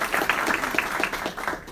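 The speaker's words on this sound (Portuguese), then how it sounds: "Salve de palmas para ela também," Audience at a biohacking and health optimization event applauding a doctor called to the stage, a dense wash of clapping with a voice calling out over it, steady through the short stretch.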